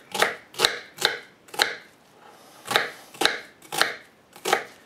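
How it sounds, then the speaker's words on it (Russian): A knife chops an onion into half rings on a board for kebab, making nine sharp, evenly spaced thuds with one short pause partway through, close and clear with no talking. "Режем лук."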